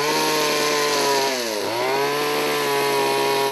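A chainsaw carving a wooden sculpture runs steadily at high revs, its engine whine dipping briefly in pitch as it bites into the wood, then climbing back; close and loud, no voices.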